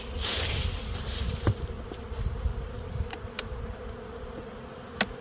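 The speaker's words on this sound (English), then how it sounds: "there are a lot of active bees." Active honey bees buzz steadily at an open spring hive, a dense continuous drone close by with a few sharper individual passes flicking near the listener.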